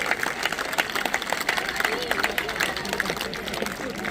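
Audience clapping at a Republic Day school celebration, steady applause with crowd murmur and voices mixed in, moderately loud throughout.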